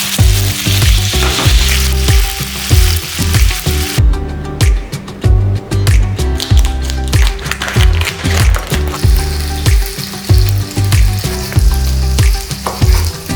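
Sausages fry in a pan for breakfast, a loud continuous sizzle broken by repeated clatter and scraping as they are stirred and turned.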